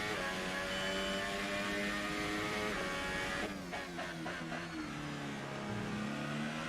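McLaren Formula race car engine in a racing video game, a high continuous engine whine rising and falling through gear shifts, with other cars faintly audible.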